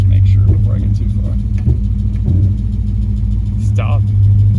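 An LS V8-swapped Mazda RX8 rumbles on its first street drive, a deep loud steady engine drone close by with slight swells in pitch, and someone talks over it.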